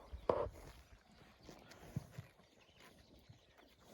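Volodymyr breed mares, Bakhrama and Bukhta, walking with faint clip-clopping hooves, one sharper knock early on, over low outdoor background noise.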